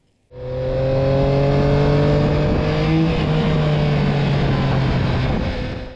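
Yamaha Tracer 9 (2021) motorcycle engine idling through its lighter exhaust end can, a steady deep bass burble with strong harmonic hum, loud and close, holding evenly for several seconds with no talk.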